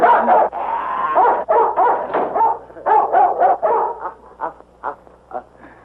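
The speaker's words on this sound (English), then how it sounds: "Say, get rid of that dog, Jim." A dog barks in a 1947 western film, a close, loud series of rough barks and yelps coming in quick bursts that thin out and fade toward the end.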